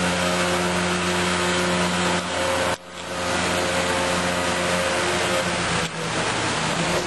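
A motorcycle engine idles steadily, warming up on a flooded city street in Rio de Janeiro at night in heavy rain, with a continuous droning hum and brief dips.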